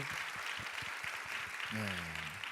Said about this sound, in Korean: 우리 박수 한번 쳐드리죠